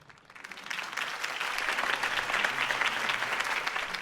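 A large crowd claps and cheers steadily after Harvey Dent's campaign speech in Gotham, the applause swelling quickly and holding dense and loud with no talking over it.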